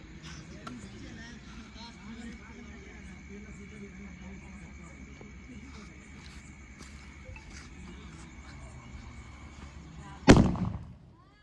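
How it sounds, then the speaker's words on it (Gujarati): A low murmur of a crowd and distant activity during the India–New Zealand T20 World Cup final carries on until a single sharp, loud firework bang bursts out near the end. "આ તો પણ ફટાકડા છે"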